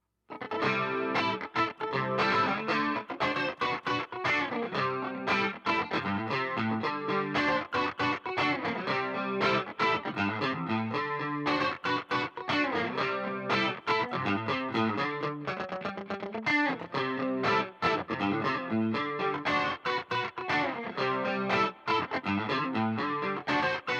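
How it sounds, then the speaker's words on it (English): Electric guitar through a Boss ME-90 chorus effect, shimmering, with dense muted strums and driven tones playing continuously and loudly throughout. "It's just a really neat doubling effect that I really dig."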